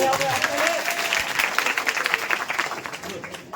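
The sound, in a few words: students clapping loudly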